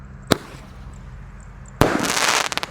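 An 8-shot firework cake lit outdoors among mercon and petasan firecrackers, a single sharp pop followed by a loud burst of crackling shots and a quick string of bangs.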